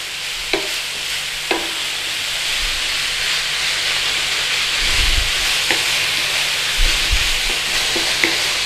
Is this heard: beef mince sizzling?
yes